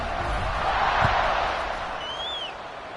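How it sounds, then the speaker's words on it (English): Football stadium crowd buzzing after a score, a steady broad roar of many voices holding loud and continuous, with a brief whistle-like rising tone near the end. "this crowd is buzzing after that last score"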